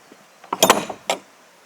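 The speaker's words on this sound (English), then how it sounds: "Let's shut that door." The wooden door of a backcountry tramping hut in drizzly weather swings and shuts with a short cluster of close knocks and rattles, then a final clunk.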